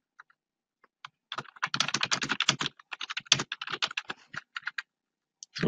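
HTML code typed on a computer keyboard, close and clear, with rapid uneven bursts of key clicks, brief pauses between them and a couple of isolated taps at the start and end.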